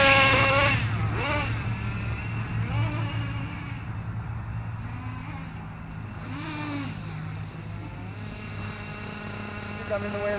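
A Kyosho USA1 radio-controlled model truck's engine idles during break-in, giving a steady low buzz with a few brief higher blips, while a person talks over it nearby.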